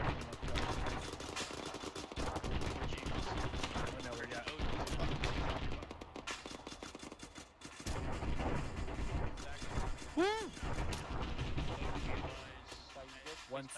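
Bursts of machine gun fire crackle and rattle throughout a military video game battle, sustained and fairly close, mixed with other gunfire, a brief whistling sound and voices talking over the shooting.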